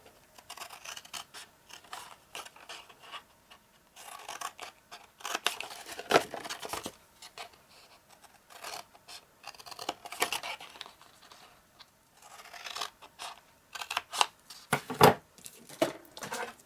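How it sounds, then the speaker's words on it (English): Scissors snip a small V notch into cardstock, giving a run of short, close, crisp cuts and rustles alone with no talk. "And just cut a little V."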